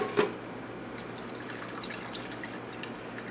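Water trickling and dripping into a cooking pot of chicken and dumplings, a brief splash at the start followed by a faint, quiet pour in a home kitchen.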